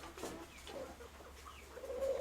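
Soft cooing from a young white pigeon close by, low murmuring calls repeating over a faint background hum.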